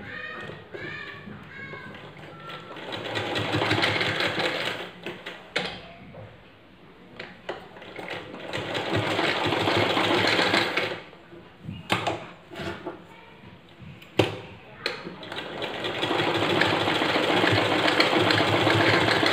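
Sewing machine stitching both side seams of baby bloomers, a steady mechanical whir running in long stretches with brief pauses and a few clicks between passes, fairly close.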